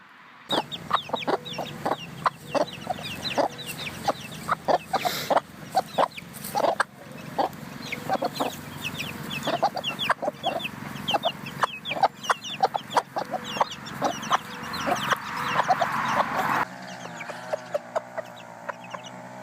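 Backyard chickens, including young birds, cluck and call in a dense, continuous chatter of many overlapping sharp notes in early June, fairly close and busy throughout.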